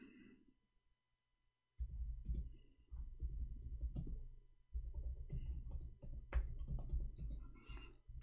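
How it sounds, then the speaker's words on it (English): Typing on a computer keyboard in Arabic: after a quiet opening, rapid, close clattering keystrokes run in steady bursts with brief pauses, alone without speech. "I'm typing in Arabic all this time."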